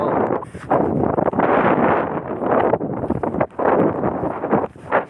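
Gusts of wind buffet the microphone in loud, rough bursts of low rumbling noise, dropping briefly between blasts.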